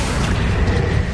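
Accio spell cast in the video game Hogwarts Legacy, a short, loud booming burst with a deep rumbling body, continuous across the brief moment without a clear break.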